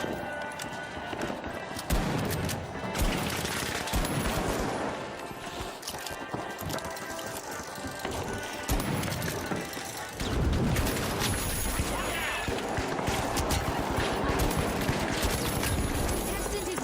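Rapid gunfire from the arena shooter The Finals, bursts of shots over busy game noise and music, with a person talking throughout.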